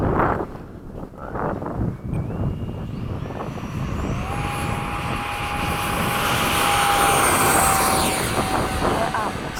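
An FMS 70mm F/A-18 model jet with its electric ducted-fan motor on takeoff, a rising whine that climbs and swells as it accelerates, loud and close with wind noise and voices nearby.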